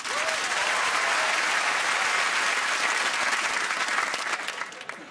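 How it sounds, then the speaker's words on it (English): A studio audience at a comedy panel show claps loudly and steadily, the applause fading out toward the end. "Round of applause for Wesley."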